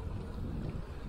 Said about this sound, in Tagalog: Lakas ng hangin, headwind.